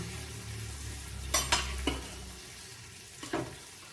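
Vegetables for a Bengali vegetable stew sautéing gently in a pot over low heat: a soft steady sizzle, broken by a few sharp scrapes and clinks of a spoon stirring against the metal, no talk.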